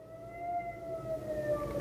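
Wailing siren outside during an Israel–Iran attack, heard muffled from inside a concrete-walled shelter room, a faint steady tone slowly falling in pitch.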